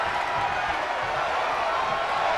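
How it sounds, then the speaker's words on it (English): A wrestling arena crowd at the Goldberg vs Hollywood Hogan match, Souled Out 1997, roars in one dense, unbroken wall of cheering that holds steady and loud throughout. "The sound of this crowd is deafening, and he's asking for more"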